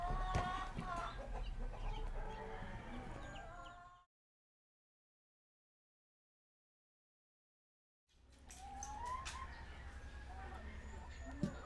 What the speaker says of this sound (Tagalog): Ayan po ang aming malalaking manok.